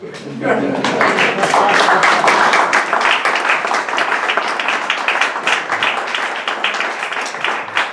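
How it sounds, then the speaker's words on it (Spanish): Audience applause during a lecture on Spain and the New World, dense steady clapping from a crowd filling the hall, with a voice audible over it. "Muchas gracias por ese aplauso."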